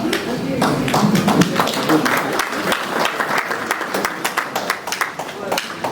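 Church congregation breaking into sustained applause, dense clapping from a crowd filling the room, with voices and shouts mixed in among the claps.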